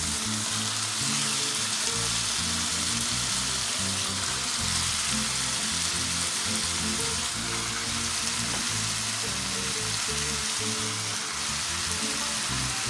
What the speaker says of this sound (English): mix the potatoes in and let them saute with the meat for a couple of minutes